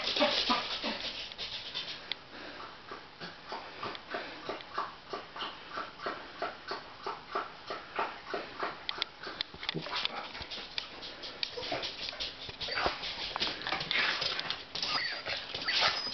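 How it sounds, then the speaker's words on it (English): An excited dog whimpers and pants close by in a quick, rhythmic pattern of breathy huffs and soft whines, with faint talk in the background. "Did my dog miss me?"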